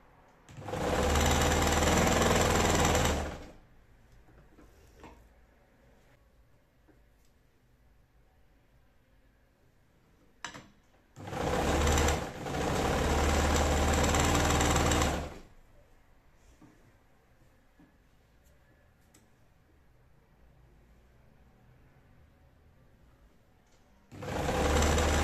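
Sewing machine stitching fabric for a bed cover, running in three separate loud, steady bursts of a few seconds each with quiet pauses and faint handling noises between them.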